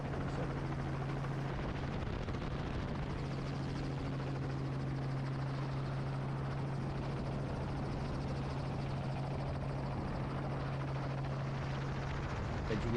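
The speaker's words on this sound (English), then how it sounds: "the helicopter chases the calf away" A helicopter on a conservation safari in South Africa chases a calf, its rotor giving a continuous, steady thumping drone throughout at moderate distance.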